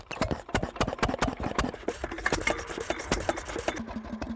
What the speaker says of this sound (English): These small internal combustion engines, they're actually wonderful things to play around with